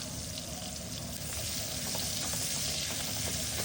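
Shallots frying in a pan for buah pelajau with anchovies, a steady dense sizzle with faint crackles, close and fairly loud throughout, no voices.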